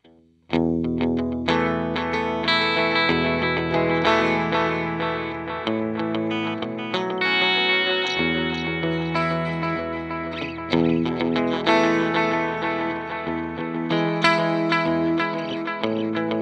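Electric guitar played through a Boss RE-20 Space Echo delay pedal, with a Telecaster-style guitar into a Vox AC30 on the Brilliant channel, sustained chords and notes trailing in repeating echoes, loud and continuous without talk.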